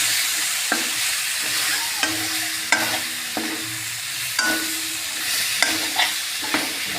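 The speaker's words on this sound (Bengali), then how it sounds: "এখন দিয়ে দিব ভেজে রাখা মাছের মাথাগুলা, দিয়ে আর মশলার সাথে ভালো করে কষিয়ে নেব।" Fried fish heads are stirred into a spice masala in a hot pan: a continuous sizzle under repeated scraping and knocking strokes of a spoon against the pan, close and fairly loud.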